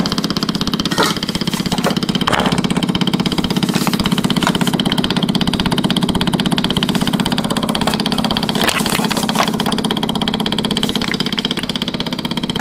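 Triumph TR7 engine, a garage-find car started for the first time after long storage, running steadily and loudly at a rough idle with a constant mid-pitched drone throughout.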